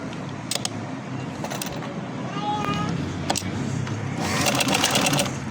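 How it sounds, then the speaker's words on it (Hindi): A sewing machine stitches dress fabric in a steady, close mechanical whir, rising slightly toward the end, while a person speaks over it. "यहाँ से अब हमने इसको सिलाई करना है।"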